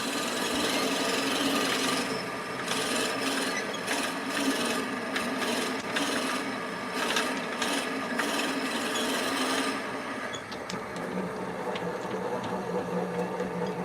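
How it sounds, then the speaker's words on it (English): Steady grinding and rasping of a drill bit cutting into wood spinning on a lathe at 700 RPM, with a machine hum underneath, close and continuous, easing slightly near the end. "We're down to 700 RPM, so let's drill this out."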